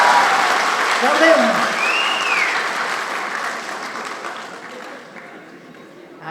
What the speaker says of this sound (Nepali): एकपल्ट ताली बजाउनुहोस् न,